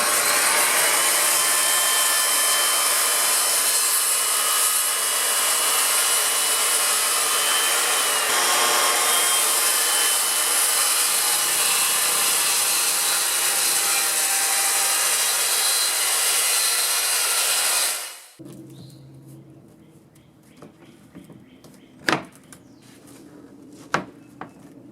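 A power saw trims a quarter inch off the bottom of a pre-hung exterior door in one loud, continuous close cut lasting most of the stretch, then stops abruptly, leaving quiet handling knocks and clicks.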